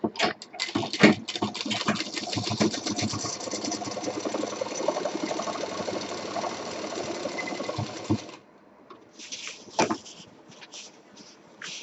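A sewing machine stitches right along the border of a simple homemade cloth bag, running in a steady, loud mechanical whir for about eight seconds, then stopping, leaving quieter handling clicks and brief rustles.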